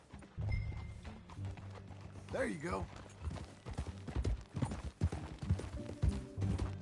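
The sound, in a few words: horse hooves clip-clopping, from a video game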